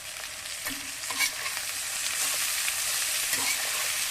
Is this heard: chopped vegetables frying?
yes